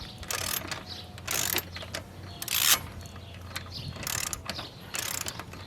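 A hand ratchet clicks in repeated bursts while car brake pads and rotors are replaced, each run of rapid pawl clicks loud and close, separated by brief pauses, with no talking.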